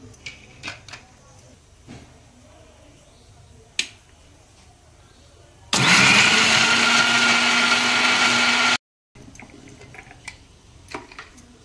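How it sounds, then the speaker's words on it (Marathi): A mixer grinder whirs loudly for about three seconds, grinding roasted fresh coconut, onion, ginger, garlic and tomato, then cuts off abruptly. Scattered clicks and light kitchen knocks come before and after the grinding. "हे भाजून ते वाटून घेते आता"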